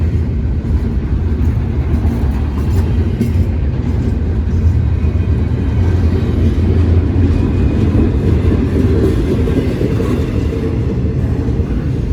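A CSX freight train of 152 cars with two DPUs runs down a city street, its steady low rumble and rolling wheel noise loud and close throughout, with no talk.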